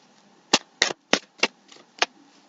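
Tarot cards shuffled hard by hand, giving five or six sharp, crisp riffling bursts in an uneven rhythm, close and fairly loud with no talk.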